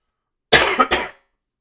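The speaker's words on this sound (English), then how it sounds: "Making me cough just thinking about this." A single close, harsh cough breaks into two quick bursts, then silence.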